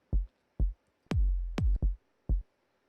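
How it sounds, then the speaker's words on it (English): Deep, punchy electronic kick drum hits repeating in a loose loop, with no other instruments, clean and dry. "It's pretty much just a kick loop."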